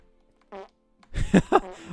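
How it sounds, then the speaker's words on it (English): A fart sound effect comes from a trinket in the Minecraft modpack Enigmatica 6: a brief buzzy puff, then a longer, louder rippling blast, with no talking. "I randomly fart now, that's the trinket."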